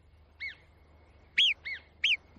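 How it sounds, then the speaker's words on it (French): A marmot gives four sharp, piercing alarm whistles, one alone and then three in quick succession, loud and close against a quiet outdoor background. "Ces quelques coups de sifflet très puissants avertissent toutes les marmottes du coin"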